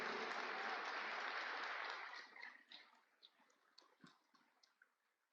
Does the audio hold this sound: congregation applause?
yes